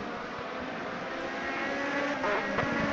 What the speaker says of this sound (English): I like the sounds these cars are making